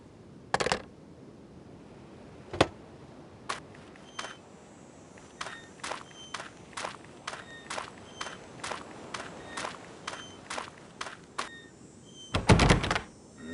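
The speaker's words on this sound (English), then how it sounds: "The door, it will not budge." Someone keeps trying a stuck door in an Agatha Christie mystery video game, giving a steady series of sharp knocks and rattles that ends in a louder clattering burst, with no talking.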